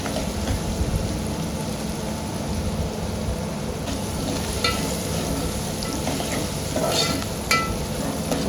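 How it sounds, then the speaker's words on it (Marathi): Onions with salt frying in a pan for a Koli-style crab curry, a dense continuous sizzle with occasional spatula scrapes and taps, close and steady from start to finish. "आता त्यात थोडं मीठ टाका म्हणजे कांदा पटकन शिजेल, आणि छान असं परतून घ्या."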